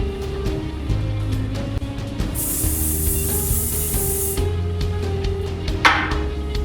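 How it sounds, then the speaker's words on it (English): Hairspray sprayed onto fine hair while prepping a top knot: one steady, loud hiss of about two seconds from a pressurised can, with a short faint puff near the end over quiet background music. "So we're going to prep it with a tiny bit of hairspray."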